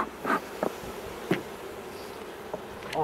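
Honey bees drone in a steady, soft hum at an open beehive during swarm control and drone brood cutting, with a few louder close passes and occasional light knocks from hive work.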